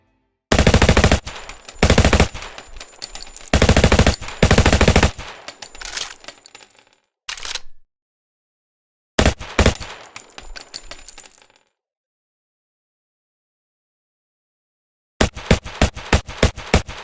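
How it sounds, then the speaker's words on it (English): Unsuppressed gunfire from the video game Unturned comes as loud, sharp bursts of rapid automatic shots separated by stretches of silence, with a final fast volley at the end. Each burst is followed by a metallic, ringing tail. "Nelson is shooting the same gun except without a suppressor on it"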